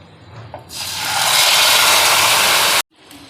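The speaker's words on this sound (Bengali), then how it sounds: "এখন আমি খিচুড়িটা ঢেলে দেব।" Khichuri is poured into a hot pan of fried spices, setting off a loud sizzling hiss that swells and holds for about two seconds before cutting off abruptly.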